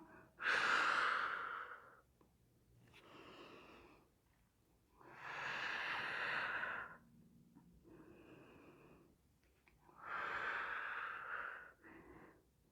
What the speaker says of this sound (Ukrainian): Дихаємо.